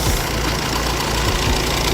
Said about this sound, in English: that's rattling noise, but I'm not quite sure where it's coming from